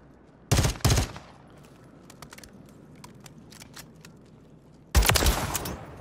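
Modern Warfare III multiplayer gunfire comes in two loud, close bursts of rapid automatic shots, one near the start and another near the end, with scattered fainter shots and game ambience between them.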